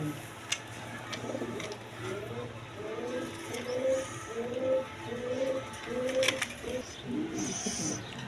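Several pigeons at a seller's stall coo in a steady run of soft, repeated low calls, close by, over a light background hum with occasional clicks.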